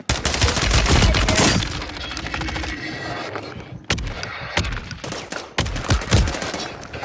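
Rapid gunfire in a Call of Duty-style shooter game: dense automatic bursts at the start, then scattered sharp single shots and short volleys, loud and close.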